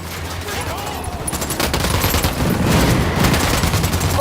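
Rapid gunfire in Ghost Recon Wildlands, dense bursts of automatic shots crackling close and loud over a low rumble, building in intensity toward the end.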